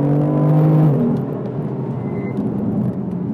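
A BMW car races around a corner at the Mondello circuit; its engine drones loudly and near, eases off, then settles into a steadier whirring rumble.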